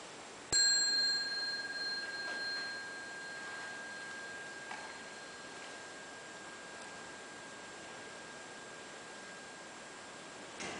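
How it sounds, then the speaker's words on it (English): A single bell is struck once and rings out with a clear, sustained tone that fades slowly over several seconds into quiet room hiss during a spiritual sound meditation; no talking. "And then I'll ring the bell again."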